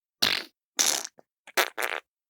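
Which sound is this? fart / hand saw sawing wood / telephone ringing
fart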